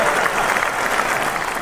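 Dense, steady applause from a studio audience fills the moment at a live football talk show honoring an NFL legend guest, a close, even wash of many hands that holds without a break.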